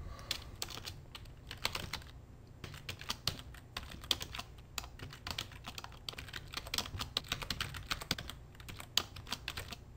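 Steady, rapid typing on a computer keyboard while programming a game, with close, crisp key clicks in irregular bursts throughout and no voices.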